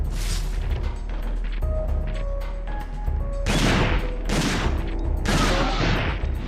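Heavy shotgun blasts in Dino Crisis 2 land in two loud broadband bursts near the end, following quieter game clatter and tonal effects, with no voices present.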